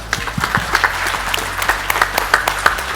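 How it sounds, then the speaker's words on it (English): An audience at an event celebrating India's official Oscar entry breaks into loud, dense applause, a steady wash of clapping with sharper individual claps on top. "maybe we should give them another round of applause"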